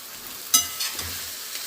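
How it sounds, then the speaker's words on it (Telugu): Amaranth leaves tipped into a hot pan with chilli powder and stirred, a sudden sharp hiss as they land followed by a soft sizzle and a few scraping stirs, close up. "కూర వేస్తున్నాం, కొంచెం వేసి కలపాలి ఫస్ట్"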